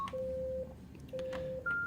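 Keypad button tones from an NEC SV9300 desk phone, three clear electronic beeps in a short sequence, each held about half a second, over a faint background hum.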